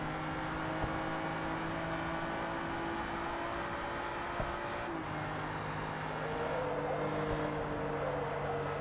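Lamborghini engine in Forza Motorsport 3 on a speedway circuit, a steady droning whir held at near-constant pitch, shifting slightly partway through, with no voices over it.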